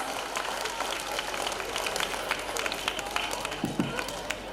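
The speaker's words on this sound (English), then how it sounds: "let's welcome him onto the stage with a huge round of applause" Steady applause from a crowd at a school annual day celebration, dense and continuous, with a few sharper claps standing out.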